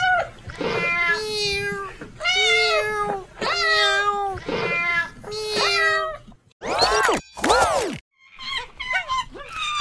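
A cat meows repeatedly up close, five even, harmonic calls in a steady rhythm, followed by two sharper high-pitched squeals and a softer final cry.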